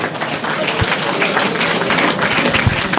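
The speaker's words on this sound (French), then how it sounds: "on peut les applaudir encore" Dense, steady applause from the crowd at an awards ceremony, a continuous wash of many hands clapping at moderate volume with no pauses.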